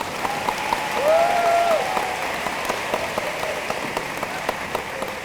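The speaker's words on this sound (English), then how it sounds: "You can clap." Audience applause at a university freshman welcome gathering, a broad crowd of clapping hands that swells early and then holds steady at a moderate level, with a faint tonal sound briefly overlapping.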